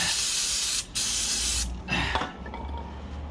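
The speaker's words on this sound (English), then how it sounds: "stainless steel, so just give it a blast" Brake cleaner sprayed onto stainless steel brake hardware during a front brake pad replacement on a 2016 Ford Fiesta, loud close hissing bursts with a short break, then a fainter spray.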